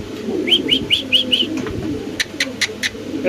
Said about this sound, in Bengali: এখানে আছে লাহোরি কবুতর অরিজিনাল টপ ব্লাডের রেড লাহোরি কবুতর